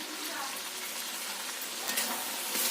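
Mutton sautéing with ground coriander and cumin in a pan, a dense, continuous loud sizzle with faint stirring scrapes near the end.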